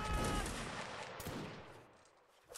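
A musket volley crackles in Mount and Blade Warband Napoleonic Wars: a dense, ragged burst of overlapping shots fades over a couple of seconds, followed by a few sharper isolated reports.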